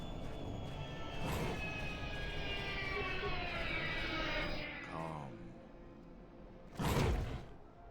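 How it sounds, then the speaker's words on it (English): A bomber aircraft engine out of control in Star Wars KOTOR 2, a droning roar with a descending whine that sweeps down and fades, followed by a sharp whoosh near the end. "The bomber is out of control!"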